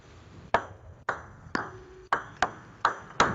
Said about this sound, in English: Sounds like a ping pong match.